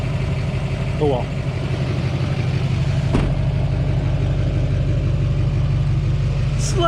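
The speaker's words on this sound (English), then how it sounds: "Slight exhaust leak." A Duramax LMM diesel truck engine idles steadily with a slight exhaust leak, a low, uneven chugging and a faint puffing rasp from the exhaust; brief clatter partway through.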